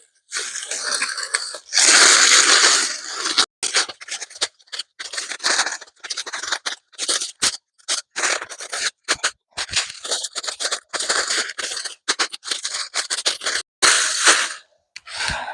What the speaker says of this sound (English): I need to come over here and cut back these irises.